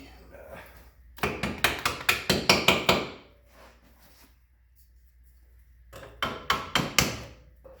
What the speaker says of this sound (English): And kind of take just a little hammer